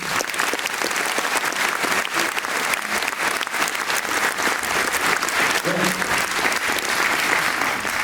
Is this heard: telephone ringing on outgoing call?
no